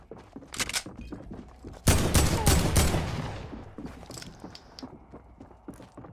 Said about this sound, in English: I'm gonna shoot him with this crossbow.